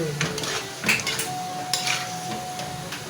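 Chicken with curry paste is stirred in a pan. A utensil scrapes and clanks against the metal in a few sharp strokes over a faint background sizzle.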